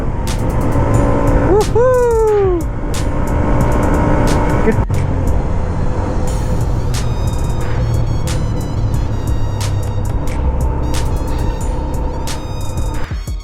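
A Hero Xtreme 125R motorcycle runs at speed through a lit tunnel on a Delhi to Ladakh ride, its engine a steady loud drone with reverberant road noise throughout and a brief rising whine near the start.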